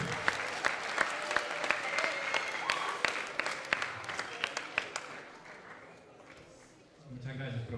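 An audience at an academic event applauds a guest speaker, with crisp individual claps over a steady wash that fades away, followed by a voice beginning to speak.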